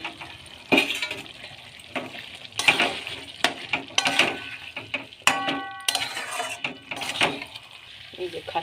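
Fried potatoes tipped into a pot of browning mutton curry, giving stirring clatter and sizzling bursts with metallic scrapes, moderately loud with pauses between strokes.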